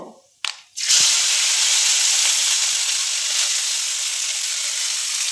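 Chopped onion, garlic, green chilli and ginger hitting hot oil in a pan for a ridge gourd fish curry: a brief clatter, then a loud, sustained close sizzle and hiss that carries on unbroken.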